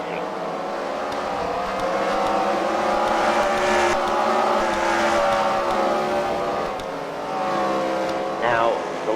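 Race cars lapping a track at a CWRL fight-night main event at the Freedom Factory, engines droning steadily in the distance with a rising and falling whine, under background crowd noise.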